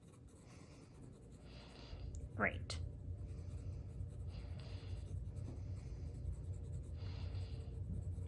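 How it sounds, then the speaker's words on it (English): A pencil shades a small value-scale box with very light pressure using the side of its lead, making a soft, steady scratchy whisper with a faint sweep and a brief word partway through. "I'm barely putting any pressure, and I'm also using the side of my pencil."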